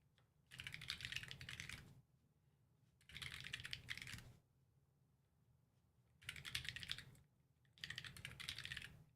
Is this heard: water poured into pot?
no